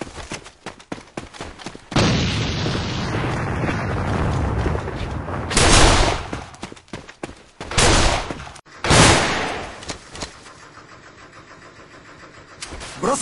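Grenade blasts in the shooter game A.V.A, several loud broadband bursts around six, eight and nine seconds over a steady rumble of game noise and rapid gunfire, with no talking.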